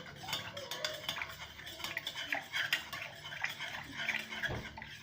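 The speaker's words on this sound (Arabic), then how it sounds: "نعمل بقى كده ونقلب كله في اتجاه واحد اهو" A spoon stirs a homemade yogurt mixture in one direction inside a bowl, giving quiet, repeated scraping and clinking strokes at close range with no talk.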